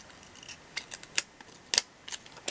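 Scissors snip through a planner sticker, trimming off its excess edge. There are about eight crisp, close cuts in an uneven rhythm, with no talking.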